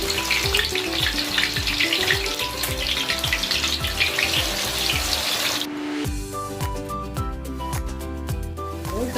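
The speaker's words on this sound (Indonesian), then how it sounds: "Sekarang kita masukkan singkong tadi ke dalam minyak." Cassava pieces are dropped into hot cooking oil over a fairly high flame, giving a loud, dense sizzle that settles after a few seconds into a steadier, crackling bubbling.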